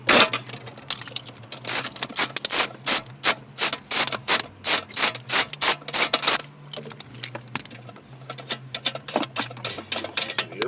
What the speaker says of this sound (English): there's just a 10mm bolt holding the computer on back there. Might need a deep well socket